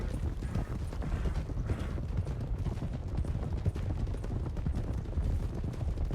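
Several horses' hooves clatter in a dense, continuous run of overlapping knocks, close and steady from start to finish.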